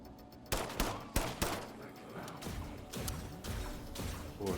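Enemy gunfire in the video game System Shock (2023): a string of sharp, loud shots, two heavy blasts early then a rapid run of cracks and mechanical clatter, with no talk.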